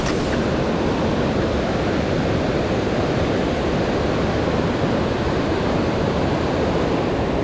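Water in a mountain trout creek rushes steadily, a loud, unbroken broadband wash that fills the whole stretch with no pauses and no voices.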